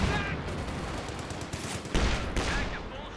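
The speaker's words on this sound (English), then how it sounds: "Nice use of the suppressing fire mode there." Suppressing machine gun fire from Company of Heroes 2 rattles in a dense, sustained stream of battle noise, with a few louder bursts standing out against the continuous clatter.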